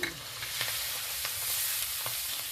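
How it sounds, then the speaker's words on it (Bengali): Ginger and green chillies fry in fish oil with a steady close sizzle, broken by light scraping stirs and a few scattered spatters, with no voices. "আবার একটু ভেজে ছেড়ে নেবো ভালো করে আদা দিয়ে নেড়ে ছেড়ে ভেজে নিয়েছি"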